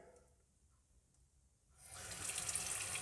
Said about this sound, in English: Just put some water in it.